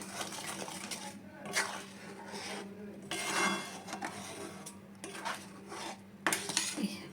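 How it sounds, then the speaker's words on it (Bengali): Raisins and cashews mixed into thick rice-flour milk payesh in a cooking pot, heard as repeated spoon scrapes and metallic clinks against the pot in uneven bursts, close by, with faint background voice. "কিশমিশটা আমি এর ভিতর দিয়ে দেবো এই কাজুটা আমি দিয়ে দেবো এবার আমি এটা মিক্সড করে দেবো এর সঙ্গে"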